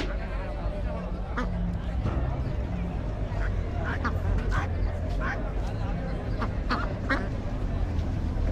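Ducks quacking in short bursts at a busy poultry market, amid steady crowd babble and background street noise.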